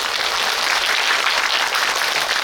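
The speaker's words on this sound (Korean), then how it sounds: "세 분께 박수 한번 부탁드립니다" An audience in a cinema auditorium at a film screening Q&A applauds three guests, giving a loud, dense, continuous round of clapping with no pauses.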